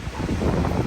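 Strong wind buffets a microphone outdoors in a city park on a gusty day, a steady low roar with rumbling gusts, short and close.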